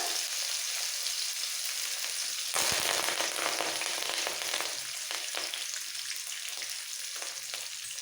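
Grated ginger, chopped green chilies and curry leaves frying in hot oil for mango rice, a continuous close sizzle that surges into a louder crackle partway through and keeps spitting steadily.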